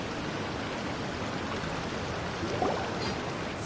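Steady rushing water roar of a waterfall in Genshin Impact, constant broadband wash filling the whole span with no breaks, moderately loud and even, alone without voices.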